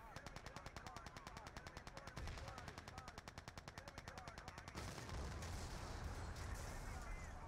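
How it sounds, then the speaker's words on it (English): Rapid, sustained AK-101 automatic gunfire in the Battlefield 2 video game, a steady rattling stream of shots that grows louder and denser partway through, set against faint game ambience. "double AK-101 kill onto Lellin and Lars"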